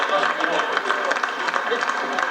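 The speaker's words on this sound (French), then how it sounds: "je vous demande d'applaudir le principal soutien de cette soirée" Broad, steady applause from a studio audience honouring Henri Krasucki on a 1992 La Cinq television evening, a thick wash of clapping that fills the room with a murmur of voices underneath.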